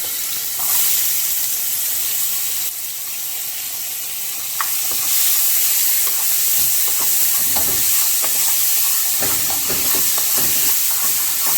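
Onions hit oil that is too hot in a cooking pot and set off a loud, continuous sizzle and hiss, with crackles bursting through the spitting.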